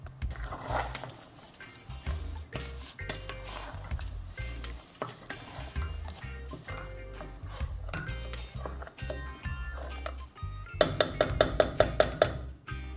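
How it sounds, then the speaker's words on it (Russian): Rhythmic scraping and stirring of apricot jam in a pot with a bubbling sizzle, dense and close, growing brighter and more clattery near the end. "теперь варенье можно перемешать."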